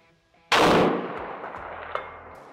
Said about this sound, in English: All right, first shot on the muzzle brake.